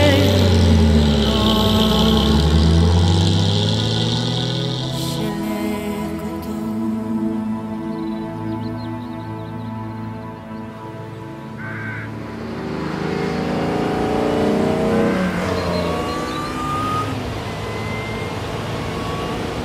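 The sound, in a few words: classic racing car engine driving through countryside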